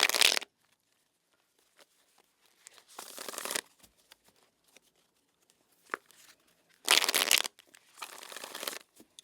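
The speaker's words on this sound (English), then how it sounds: "All right, so let's shuffle the deck here" Tarot cards riffled and shuffled in four separate bursts, crisp papery flutters with quiet pauses in between, close up.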